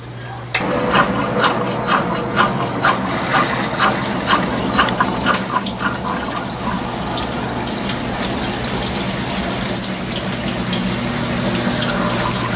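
A Consul 16kg CWL16AB washing machine drains during a white-clothes cycle, giving a steady low pump hum under continuous rushing, gushing water that runs unbroken and fairly loud throughout.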